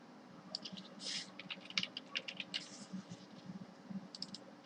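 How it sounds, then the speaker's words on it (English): Someone types JavaScript code on a computer keyboard, producing a steady run of soft, rapid key clicks with a few heavier presses, faint and close, without speech. "I'm going to type in val username"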